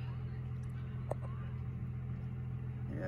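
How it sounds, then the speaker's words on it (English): A truck engine running somewhere nearby as a steady low droning hum beneath a brief bit of speech, with the motor holding an even idle throughout. "Sorry about the noise, they got a truck over there."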